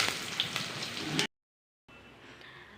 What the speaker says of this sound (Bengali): এবারে দিয়ে দিচ্ছি টুকরো করে রাখা আলু।